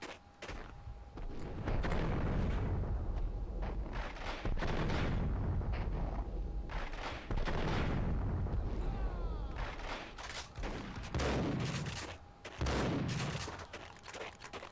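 Gunfire in the Max Payne video game, bursts of rapid shots and heavier blasts in clustered volleys across the scene, loud and close, with gaps between exchanges.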